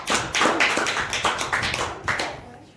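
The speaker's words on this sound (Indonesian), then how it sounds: "Berikan aplaus untuk kelompok 2" Classmates applaud a student group after its presentation in an Indonesian classroom teaching demonstration, a burst of many hands clapping that holds steady, then thins and tails off over a few seconds.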